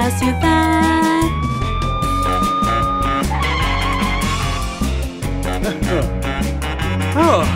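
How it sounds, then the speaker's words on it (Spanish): A fire truck siren wail rises and falls over a busy, upbeat music track with steady drums, loud and up front. "La sirena del camión de bomberos suena"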